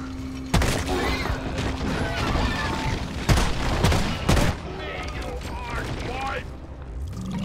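A grenade goes off in the co-op game Deep Rock Galactic with a sharp, loud blast, followed by further booming hits and gunfire-like crackle. Several players talk over the action throughout.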